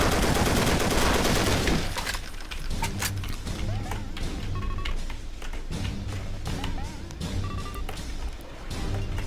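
An MG 42 machine gun in Brutal Wolfenstein fires in sustained bursts, opening with a loud continuous stream, then breaking into shorter clattering volleys and thuds, with a voice talking over it.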